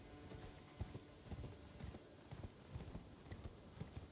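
Horse hooves gallop in Elden Ring Shadow of the Erdtree, a steady rhythmic clip-clop of a ridden mount running, faint and continuous with no talking.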